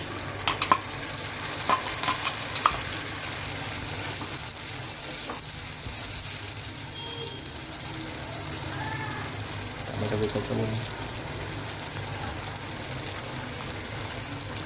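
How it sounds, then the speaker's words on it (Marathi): Tomato paste, green chilli and spices sautéing in oil in a pan for an egg biryani, with steady sizzling and frying under repeated stirring and scraping, and soft speech now and then in the background. "हे व्यवस्थित परतून द्यायचे तेल सुटेपर्यंत"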